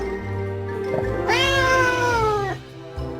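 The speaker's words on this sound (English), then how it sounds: "A cat." A cat gives a single clear, drawn-out meow, close and loud, rising then trailing off over a faint steady background tone.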